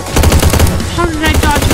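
Rapid automatic gunfire in the video game Slendytubbies, set in a military factory, rattles in a loud, fast continuous burst close up, with no pause through the whole stretch.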